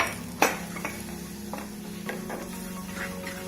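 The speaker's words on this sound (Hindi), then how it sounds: "फ्लेम बिल्कुल धीमे रख के स्पून लगातार इस तरह से चलाएंगे।" A spoon steadily stirs gram flour and a pinch of turmeric in a pan over a low flame, giving soft scraping with a faint sizzle underneath and one sharp clink near the start, close and fairly quiet with no voices.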